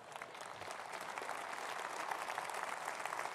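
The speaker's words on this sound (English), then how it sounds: "That applause for these great men." Audience at the Conservative Party Conference applauding ministers, a steady, fairly distant patter of many hands clapping throughout, fairly quiet.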